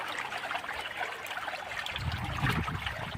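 Overflow water runs out of a freshly filled water tank as a steady trickling flow, with a low splashing swell toward the end.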